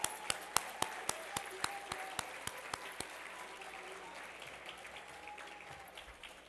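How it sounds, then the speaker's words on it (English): Applause at a formal gala dinner, starting with distinct sharp claps from nearby hands in a quick rhythm that soon blur into a softer, fading round of clapping from the room. "Please join me in giving her a round of applause."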